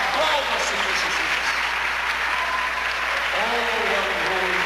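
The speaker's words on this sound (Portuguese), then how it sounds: "Aplauda, Senhor Jesus." Church congregation applauding together, a dense steady wash of clapping that fills the whole stretch at close range, with some voices mixed in.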